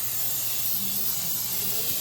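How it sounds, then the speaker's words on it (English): A steady, continuous hiss of a cooking oil aerosol spray on frying chicken runs the whole time, close and fairly loud, with a faint low hum underneath. "And I think I'm gonna give it a little spray to"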